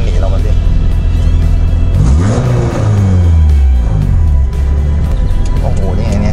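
A Dodge Charger with a 5.7-litre engine accelerates hard on an ordinary road in the USA, its deep rumble climbing in pitch mid-clip under a constant loud cabin drone, with voices likely mixed in.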